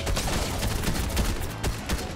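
Rapid gunfire rattles continuously during a Fortnite match, a dense burst of shots fired in quick succession, loud and close, with no voices over it.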